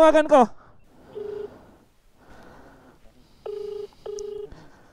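A mobile phone's dialing or call tones during a stop to park on a mountain camping trip near a cliff at Baangan, Mankayan, heard as short steady beeps between brief bursts of speech.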